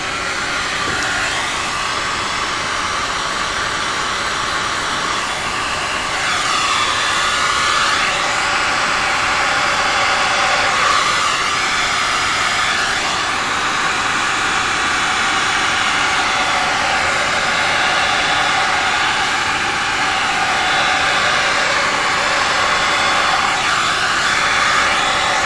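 Heat tool blowing over a resin painting with alcohol inks, a constant close whooshing roar like a hair dryer that holds steady for the whole stretch with slight shifts in pitch, no voices.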